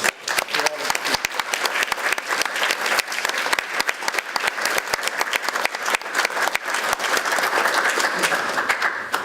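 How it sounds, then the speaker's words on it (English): Audience applause at a summer school moot court decision: sustained, lively clapping from a room full of people, loud and even throughout. "please, a big, big round of applause"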